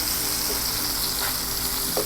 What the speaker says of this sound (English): We have been stir frying our meatballs